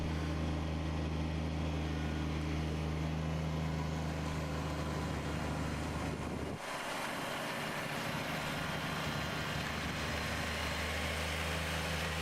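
A snow blower engine drones steadily at close range while clearing a driveway after a snowfall, its tone shifting slightly partway through as the load changes, with no talking.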